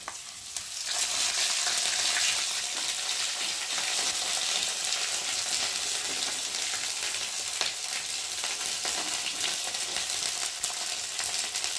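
Ginger and cumin paste, with green chillies, turmeric and salt, fries in a pan with a steady, close sizzle that holds evenly throughout, with occasional stirring scrapes and no talk.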